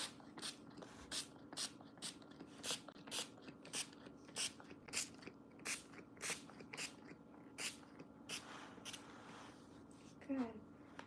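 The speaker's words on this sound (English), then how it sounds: "This is how you spray." Repeated short hissing bursts from a spray can misting a stiffening spray onto a craft project, about a dozen quick pumps in an uneven rhythm, close and fairly loud, with a person talking faintly in the background.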